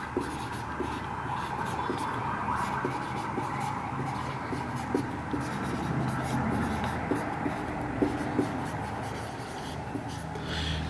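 Math equations for a higher-mathematics lesson on exponential equations are written out on paper, making continuous close scratchy pen strokes with faint talk in the background.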